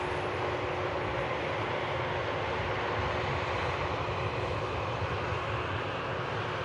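An Airbus A321neo at Manchester Airport gives off a steady, broad jet engine roar that holds a constant level throughout, heard alone at a distance.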